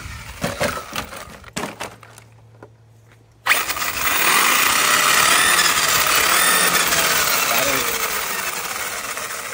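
Arrma Kraton RC truck fitted with new tires: after a few sharp knocks and a brief quiet gap, the electric motor suddenly whines up loud and holds a steady, high, buzzing roar for several seconds as the truck accelerates.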